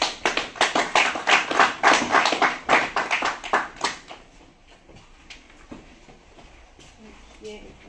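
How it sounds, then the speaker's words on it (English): An audience at a college conference applauds a guest speaker with a burst of close, dense hand clapping that tapers off after about four seconds, leaving a quiet room. "give a applause to Annabel."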